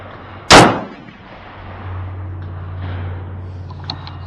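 A single loud rifle shot fired while zeroing at 100 yards outdoors, a sharp crack followed by a fading rumble and quiet background afterward, with no talk.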